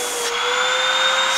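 A Hoover WindTunnel MAX UH30600 bagged upright vacuum cleaner runs close and loud, a steady motor whine with a sharp tonal hum that shifts slightly as it settles in.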